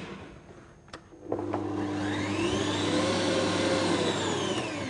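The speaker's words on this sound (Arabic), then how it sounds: "ابتدي بس اخفق خفقه" An electric hand mixer clicks on and then whirs steadily as it whisks corn oil into yogurt cake batter, its motor hum close and constant after a couple of faint knocks.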